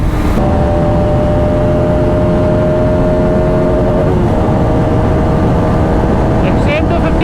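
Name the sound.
motorcycle engine revving in high gear during performance test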